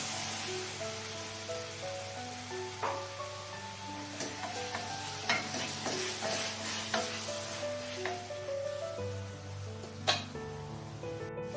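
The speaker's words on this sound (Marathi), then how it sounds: "आता त्याच्यात टमॅटो तो पण मी एकदम बारीक चिरला आहे तो पण परतून घेऊ" Finely chopped tomatoes sautéing with onions in a pan for chana masala, a continuous sizzle with scattered spatula scrapes and clicks at irregular intervals, close and unaccompanied by speech.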